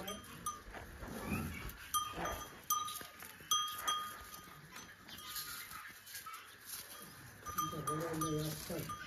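Calves bleat and call close by, with bells clinking now and then over steady outdoor background noise.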